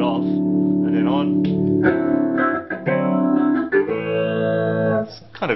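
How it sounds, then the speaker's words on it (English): Electric guitar sounding through a phaser effect pedal, the classic 1970s effect, with sustained chords and notes that swirl and sweep. It is loud and continuous across the clip, with short gaps between phrases. "This next one down here is called a phaser, and they were around a lot in the 70s."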